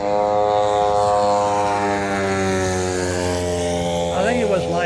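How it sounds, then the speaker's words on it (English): A model airplane's propeller and motor run in flight, giving a loud, steady, buzzing drone whose pitch rises and dips slightly, close and continuous throughout. "It's amazing when you get that prop going in the right direction."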